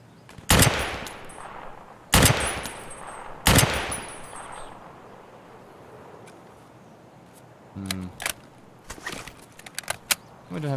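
Gunfire rings out in the video game Escape from Tarkov: three loud single shots spaced over the first few seconds, then a quieter pause, then a rapid cluster of sharper shots and clicks near the end.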